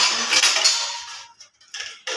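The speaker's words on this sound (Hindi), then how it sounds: "तो इनको मैं इसको रैक में लगा दूंगी सारे बर्तन" Freshly washed household utensils and dishes set into a rack: a loud metallic rattle and clatter up close, then a short pause and a few more clinks as items are placed.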